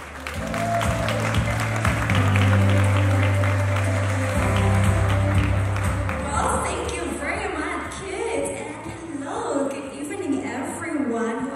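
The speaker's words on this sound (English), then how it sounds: "Please give her a warm round of applause." An audience at a pageant final applauds the host, with loud sustained clapping that swells early and fades out, while a voice speaks over an amplified system and music or tones sound beneath it.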